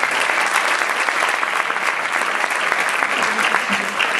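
An audience applauds the evening's translator at the opening ceremony of the Dinard British Film Festival 2021, dense, even clapping filling a hall, loud and continuous throughout.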